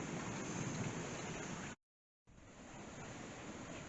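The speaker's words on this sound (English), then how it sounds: "that rain is coming down pretty darn good" Heavy rain pouring down outside, a dense, steady hiss of falling water, cut by a brief silent gap before the downpour resumes, fairly faint and even.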